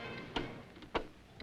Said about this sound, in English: With every swing of the pendulum, with every second, a man's life ticked away.